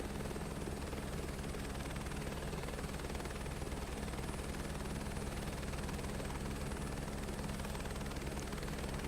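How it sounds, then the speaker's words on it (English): An aircraft engine held at full throttle in Microsoft Flight Simulator 2024, a steady loud droning roar with a pulsing low throb and a constant high whine, unchanging from start to end. "Putting the throttle to full really throws it up."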